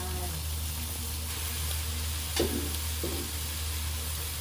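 Pork dropped into a pan with roasted chili paste, a continuous sizzle and frying hiss with a brief louder splash of stirring partway through, close and moderately loud over a low background hum.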